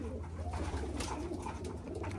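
Pigeons coo steadily inside a loft, a continuous close low warbling with a constant hum beneath it.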